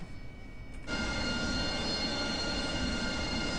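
A simulated aircraft taxiing out to runway 03 left in the DCS flight simulator, a steady engine drone that swells louder after a quiet start and then holds a constant, loud hum.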